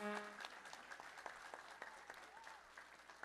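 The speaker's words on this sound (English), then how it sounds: "Give them a hand of applause." An audience gives a round of applause after a Black History Month presentation during a church gathering: steady, faint clapping from a crowd that carries on for several seconds without speech.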